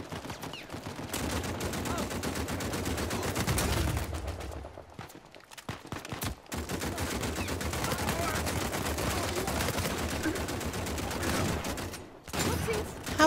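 Heavy continuous gunfire in the video game Uncharted 4 co-op survival mode in a prison stage, dense overlapping shots and bursts filling most of the stretch with a few brief lulls, with a player talking over it.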